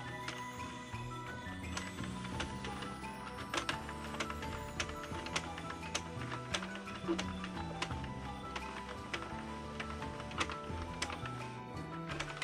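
A plastic circular knitting machine is cranked slowly round for the first cast-on row of a beanie, producing a steady stream of small rhythmic clicks and ticks from the needles, moderately close and fairly quiet.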